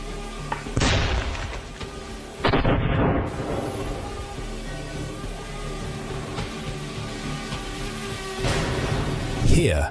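Kamikaze drone strikes exploding in war footage from Ukraine, three sharp blasts spread over several seconds, each a sudden loud crack fading into noisy rumble over a constant hum.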